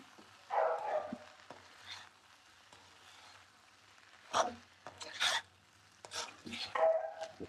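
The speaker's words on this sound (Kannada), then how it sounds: "ಈಗ ಚೆನ್ನಾಗಿ ಫ್ರೈ ಮಾಡ್ಕೋಬೇಕು ಇದನ್ನು" Coriander powder and chili powder are fried and stirred in a pan for pappu saaru, with a few scattered scraping and clattering strokes amid quiet gaps, close by.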